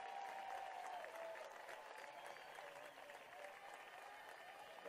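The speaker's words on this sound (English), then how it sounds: "A well deserved round of applause" A baseball crowd at a Wichita State versus Oklahoma game applauds steadily, a dense wash of clapping from many hands that carries on without a break, with a faint announcer-like voice underneath.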